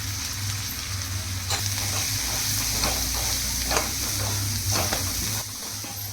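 Lentils stir-fried with spices in a pan give a steady, moderate sizzle, with occasional scraping clicks from stirring throughout.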